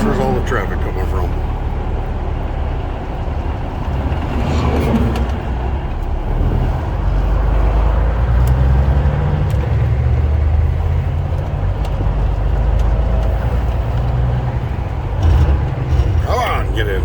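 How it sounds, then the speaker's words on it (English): Road traffic with cars passing, a steady broad rumble of engines and tyres that swells and fades, with people talking over it throughout. "Where's all the traffic coming from?"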